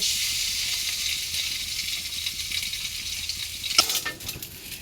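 Food sizzling in hot ghee in a pan, a steady loud hiss heard alone with a brief clatter of a utensil near the end.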